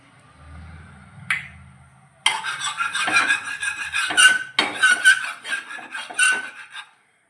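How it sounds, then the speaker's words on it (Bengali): Wheat flour batter is whisked in a bowl: after a brief quiet start, a steady run of close, rapid scraping and tapping strokes continues for several seconds, with no one speaking. "এবার এটা একটু ফেটিয়ে নেব।"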